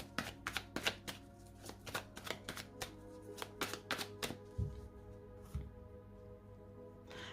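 Tarot cards are cut and shuffled in a quick, irregular run of crisp riffles and slaps, close and fairly quiet, with no voices.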